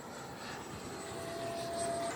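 An FMS F-86 80mm electric ducted fan RC jet in flight after takeoff, its fan whine a faint, distant, steady hum that swells slightly toward the end.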